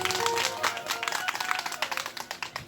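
Audience applause at a Shri Ram Katha religious discourse, a dense burst of clapping from a crowd that thins into scattered claps over a few seconds.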